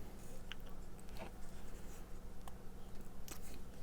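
Small laser-cut pieces of a model kit push onto the ends of a part, faint scratchy rubbing and a few tiny clicks close by against a quiet hiss of room noise.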